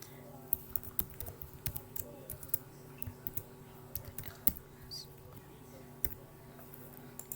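Typing on a computer keyboard with an enter press, a run of soft irregular key clicks and a few louder taps, close and quiet with no talk.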